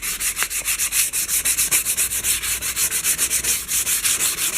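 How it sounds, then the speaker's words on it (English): A wooden bushcraft axe handle being sanded by hand with steady, rhythmic back-and-forth rasping strokes, about six per second, close and even throughout. "I want to sand it up and bring out the grain and stuff on it"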